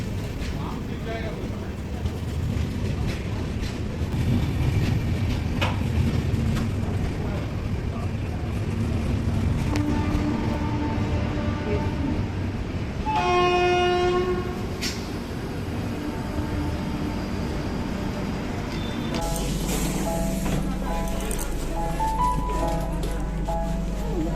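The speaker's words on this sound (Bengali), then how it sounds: "ট্রেন একদম সময়ে ছেড়েছে সাঁতরাগাছি থেকে" Train rumble and rattling carriages under scattered voices as the train departs Santragachi station, with a horn-like tone midway and a louder rush near the end as the train gets moving.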